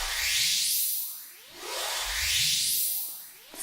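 Randomized Sylenth1 synth preset effect: airy swooshing sweeps rise and fall in repeating waves, with low tones gliding upward beneath, sustained and fairly loud without any voices.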